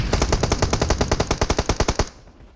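Rapid automatic gunfire in the mobile battle-royale game PUBG Mobile, a loud close burst of about twenty evenly spaced shots that cuts off abruptly, followed by brief quiet.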